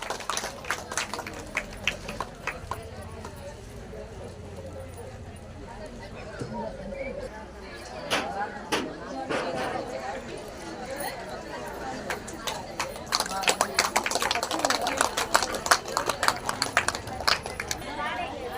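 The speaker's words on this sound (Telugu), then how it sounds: "గట్టిగా చప్పట్లు కొట్టండి." An audience at a Women's Day celebration in a Mandal Parishad office claps, with scattered claps early and dense, loud applause near the end, while people talk over it.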